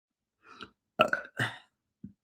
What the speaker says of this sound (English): Can you burp, bro? Finna say something. Yeah, give us a good burp.